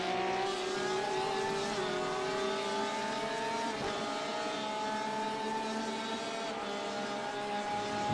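A GTE-class race car exits the pits in the iRacing sim at Watkins Glen during a 24-hour race, its engine note climbing steadily through the gears, loud and continuous with no talk.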